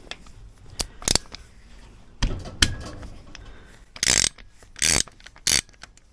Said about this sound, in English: So we need to take this bolt out because it's attached to this side of the case.